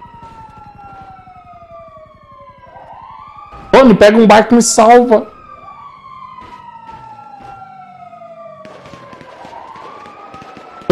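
Several police car sirens in a video game wail with rising and falling sweeps, overlapping at a distance, while someone talks loudly in short bursts over them.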